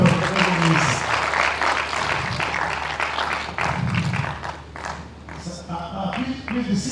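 Audience applause for a Federal Minister at a press conference, a steady patter of clapping with voices talking over it, fading toward the end.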